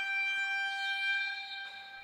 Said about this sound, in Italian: Tanto suona la sirena, tornano in pista i 10 giocatori